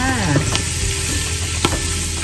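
Food frying and sizzling steadily in a hot pan, a dense continuous crackle while Thai fish dishes are cooked, with a brief stir or clink near the middle and no voice.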